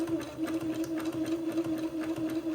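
A sewing machine zigzag-stitches along a raw fabric edge, producing a steady, close mechanical hum with a fast, even pulsing rhythm from the needle throughout.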